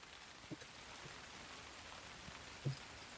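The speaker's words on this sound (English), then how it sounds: "Why can I not get rid of the rain effects?" Soft, steady rain patters on surfaces in the Fallout game world, a faint even hiss with a few louder drips and thumps scattered throughout and no one speaking.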